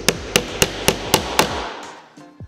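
A hammer strikes a socket set on a wooden roller stand part in a woodworking shop: six evenly spaced sharp metallic blows, close and loud, followed by a short ringing decay and a faint clatter.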